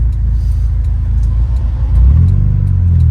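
Honda Civic with a B20b engine rumbles steadily while driving, then pulls harder with a rising rev near the end, loud and close from inside the car.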